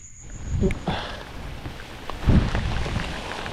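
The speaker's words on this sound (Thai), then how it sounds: "โอ้ฝนครับฝนฝน" Steady hiss of storm rain falling, with a couple of louder rumbling thumps rising above the constant patter.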